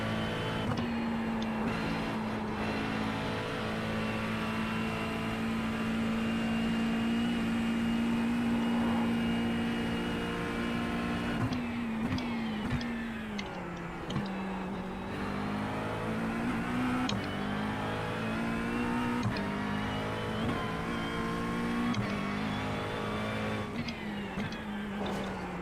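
McLaren race car lapping the Nürburgring Nordschleife, its engine droning steadily with rising and falling revs through gear changes, heard from on board and continuous throughout with no talk.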